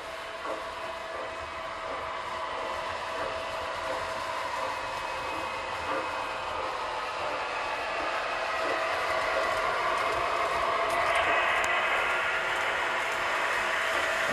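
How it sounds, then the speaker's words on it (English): Four model trains run together on a layout track, giving a continuous close whirring and clicking rail noise with a faint hum that builds slightly louder over time, and no voices. "Four trains running, which is my end goal with this track plan."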